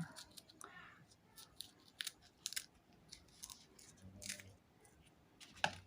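Scissors snip open a food package during an animal and plant food packaging and storage session, giving several sharp crisp cuts and crinkly rustles spread across the stretch, close and moderately loud with no talk over them.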